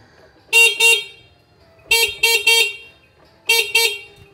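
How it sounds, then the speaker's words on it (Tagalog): An NWOW EMC Golf scooter horn honks in short bursts: two beeps, then three quick ones, then two more, loud and close with quiet gaps between. "kailangan natin ng busina"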